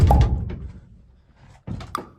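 A VW T4 van's sliding door, on a rebuilt step and runner, slides and shuts with a loud heavy thunk, then a quieter second knock and rattle follows about 1.7 seconds later.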